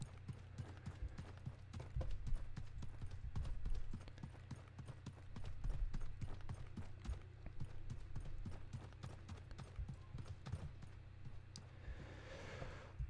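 Horse hooves clip-clopping in the game Realm Royale, a rapid steady gallop of sharp clicks over a low rumbling hum, continuing for several seconds before fading out near the end.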